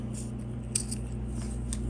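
Scissors snipping off the end of a sewn zipper on a DIY zipper wallet, a few faint quick cuts close by over a low steady background hum, no talking.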